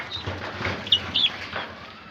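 Chinese chicks packed in a delivery batch give a few faint, high cheeps over a quiet, muffled background, two brief peeps standing out near the middle, with no talk.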